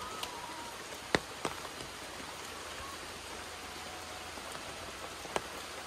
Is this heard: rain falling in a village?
yes